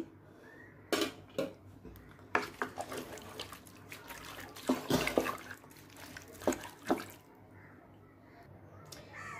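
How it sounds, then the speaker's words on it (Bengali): About a cup of chopped onion goes into a pot of marinated beef, with scattered clinks of a metal spoon and pot and some light wet tumbling sounds. The sounds are irregular, close and moderately quiet. "এখন আমি দিয়ে দিব এক কাপের মতো পেঁয়াজ কুচি"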